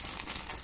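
Close, brief crinkling of a plastic bag, a quick burst of crisp rustling with no talking.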